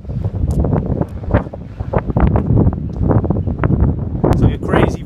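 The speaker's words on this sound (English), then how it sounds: "It's going to be a bit windy up here." Strong wind gusts buffet the microphone at a hilltop coastal vantage point by World War II gun emplacements, a loud rumbling roar that rises and falls under a voice.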